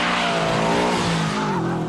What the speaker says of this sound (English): In setting 3, the all-wheel drive Impreza drives nearly like a rear-wheel drive.